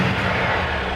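A Maserati Levante diesel engine gives a low, steady, loud rumble that fills the whole second with no break.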